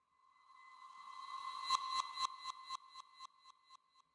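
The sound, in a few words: stock Ableton reverb fully wet with ping pong delay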